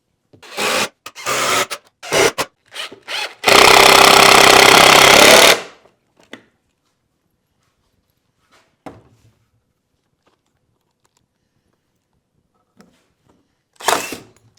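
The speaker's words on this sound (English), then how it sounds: "so I can take the jigsaw and round those edges off" A jigsaw rounds off the edges of wooden chair pieces in one loud, harsh two-second burst of cutting, framed by scattered clicks and knocks of handling and then near silence.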